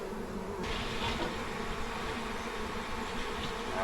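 Honey bees clustering inside an open hive produce a dense, steady buzzing drone that fills the whole clip up close, with no talking.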